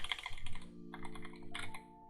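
Computer keyboard typing, a quick burst of clicky keystrokes, a brief pause, then a few more presses, close and fairly crisp.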